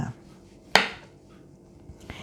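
A knife chops food on a cutting board while ingredients are prepared for stir-fried noodles, one sharp crisp strike followed by a fainter second cut, with no talking.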